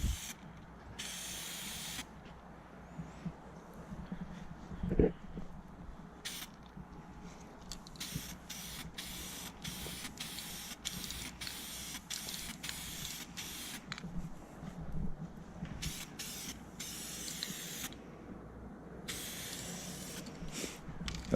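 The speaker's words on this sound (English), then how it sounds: "Let's just apply some weld through primer and let it dry" Weld-through primer hisses from a spray can onto a 1970 Plymouth 'Cuda body panel in repeated short bursts separated by brief pauses, with a single clunk partway through.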